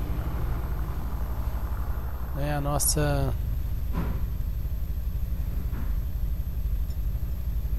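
Motorcycle engine idling in GTA V, a steady low rumble running throughout under someone speaking, with a brief louder vocal burst near the middle.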